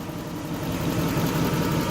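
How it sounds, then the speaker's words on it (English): A Lexus LS400 engine, warmed up, idles with a low, steady rumble close by, slightly fluctuating but even throughout. "Now the car's been running for 5 minutes. It's idling down to its low idle."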